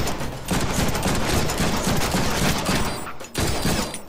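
Rapid bursts of gunfire fill a Deadpool video game scene, dense overlapping shots roaring continuously with two brief gaps, loud and close with no voices.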